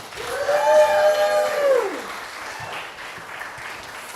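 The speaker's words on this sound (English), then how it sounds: "please clap one more time for Clara" An audience at a poetry reading applauds for the poet Clara with a soft, diffuse wash of clapping. A sustained tonal, sliding sound rings over it at first and then fades, leaving quieter clapping.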